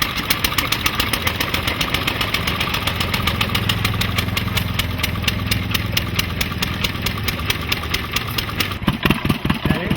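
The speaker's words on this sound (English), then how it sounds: "some engines sound as though they are not particularly happy to be awakened" An old stationary engine at a flywheelers show runs roughly with a rapid, uneven thumping beat and knocking, loud and close, stumbling briefly near the end.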